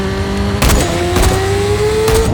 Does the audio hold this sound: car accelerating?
yes